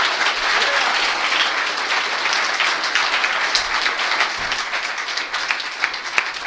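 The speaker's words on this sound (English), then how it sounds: "let's give another big round of applause for our speakers tonight." Steady, dense applause from an evening audience honoring speakers, many hands clapping continuously at an even, fairly loud level throughout with no voices over it.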